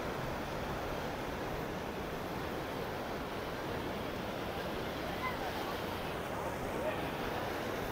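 Fast floodwater rushes through a city street in Udaipur after two hours of heavy rain, a constant loud roar of flowing water with wind buffeting the microphone.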